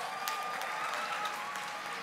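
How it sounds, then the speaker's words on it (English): Applause from a student audience at a university youth leadership debate final, a steady moderate wash of clapping filling the short stretch with no voices over it. "A round of applause, please"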